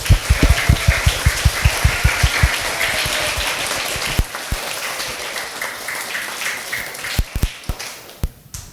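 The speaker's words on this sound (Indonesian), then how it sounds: "Tepuk tangan dulu dong buat Kak Dion dan Kak Monica." Audience at a school homecoming talk show clapping: a burst of sharp, close claps in quick rhythm that thins into scattered, fainter claps and a few isolated strikes near the end.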